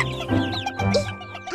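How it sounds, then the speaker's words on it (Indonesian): In a cartoon, a hen clucks with chicks, giving a few short, close clucks and chirps over a soft animated background. "Anak ayam! Comelnya!"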